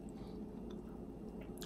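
Steady close chewing and crunching of a bowl of cereal soaked in soda, wet squishy bites repeating through a loud low background with no talk.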